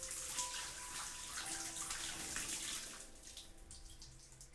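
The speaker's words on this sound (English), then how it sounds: "So get the water and pour it on the flowers." Water poured onto flowers in the video game Homesick, a steady broadband splashing pour that stays fairly loud, then thins and softens near the end, with no talk over it.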